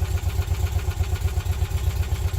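A steady, low engine of a 1985 VW T25 van idles with an even throbbing pulse, close and continuous, with no voices over it.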